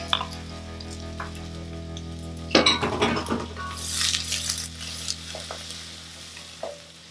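Chopped onion browning in a frying pan in a home kitchen, with a steady low sizzle and a burst of scraping and stirring in the middle, plus light clinks of utensil against the pan.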